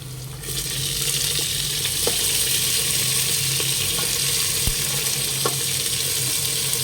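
Mixed vegetables, washed beforehand, hit a hot pan for a Khandeshi-style Bhogi mixed-vegetable dish and give off a steady, even sizzle that holds close and continuous throughout.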